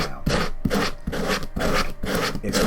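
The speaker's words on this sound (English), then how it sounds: "Sanding with one end I do not enjoy." Hand sanding a clay pot for a zeer pot-in-pot refrigerator: close, steady back-and-forth rasping strokes in an even rhythm, about two per second, with no talking.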